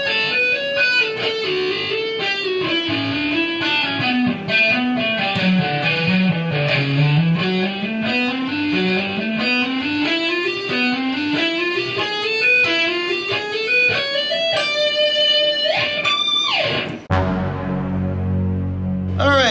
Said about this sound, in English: Okay, so the entire lick played slowly sounds kind of like this.